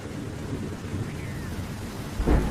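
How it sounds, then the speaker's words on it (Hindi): Heavy rain with a thunder rumble in a Hindi animated story, steady downpour hiss throughout and a louder thunder burst near the end, no talking. "बाहर बहुत तेज बारिश हो रही है।"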